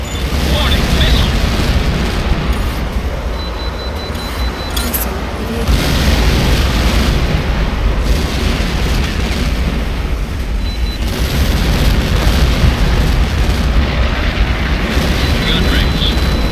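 Missiles explode in the flight combat game Tom Clancy's HAWX, deep booms rolling beneath continuous loud jet roar and radio chatter, with the rumble swelling in several waves.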